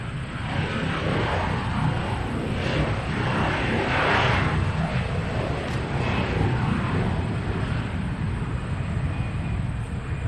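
A low, steady engine roar from an airplane passing low at Nashville International Airport swells and fades slightly over ten seconds, with some wind rumble on the microphone.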